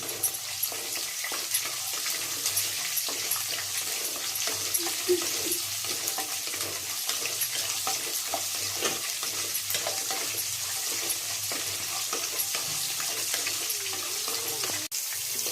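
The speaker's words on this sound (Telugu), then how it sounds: "ఆ తర్వాత పచ్చిమిరపకాయలు వేసుకోండి." Green chillies frying in hot oil with curry leaves for brinjal rice, a steady close sizzle and crackle lasting throughout with occasional stirring scrapes, no voices.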